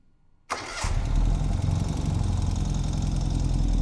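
A 2021 Ural Gear Up sidecar motorcycle engine cranks and fires after a brief quiet moment, then settles into a loud, steady rumbling idle close by.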